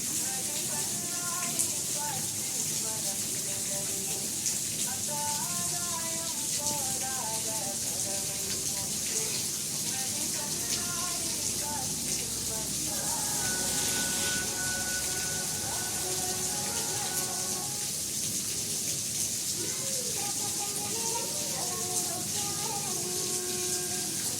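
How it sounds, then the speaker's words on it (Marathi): Heavy monsoon rain pours down steadily on a Konkan village at night, a dense, constant hiss that fills the whole stretch, with birdsong or other chirping calls rising faintly above the downpour. "पाऊस केवढा बघा"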